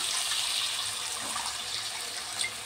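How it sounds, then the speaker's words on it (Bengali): Water poured into a pan of fried spices with green chillies and kasuri methi for Bengali doi chingri, a steady broadband rush and hiss running unbroken throughout, fairly loud and close. "আমি জল দিচ্ছি।"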